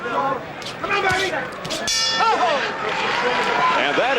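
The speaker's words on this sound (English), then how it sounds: "Heading for the bell." Boxing bell ringing at the end of round 11 in a professional fight between Roger Mayweather and Harold Brazier, a sharp metallic clang ringing out over loud crowd noise and a commentator talking.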